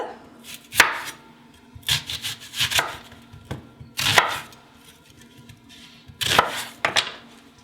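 Knife chopping parsnip and onion on a board, sharp clustered bursts of several quick strokes with short pauses between, close and fairly loud with no talking.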